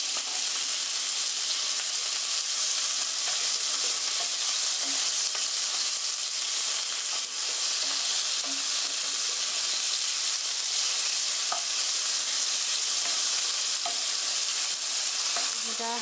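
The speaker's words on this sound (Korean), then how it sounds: "이렇게 해서 고기가 하얗게 될 때까지 천천히 볶아주세요" Pork stir-fried slowly in a hot pan until it turns white, a loud continuous hissing sizzle that holds steady for the whole stretch without talk.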